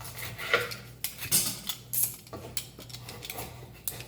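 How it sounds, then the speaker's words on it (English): Scraping strokes of a peeler against potato skin, repeated in quick uneven bursts with light clinks of a utensil, close up and without talk. "We're just peeling away."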